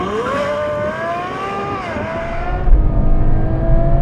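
A Porsche pulls away to warm its tyres, the engine note rising steadily through gear changes before a lower rumble takes over, loud and close throughout.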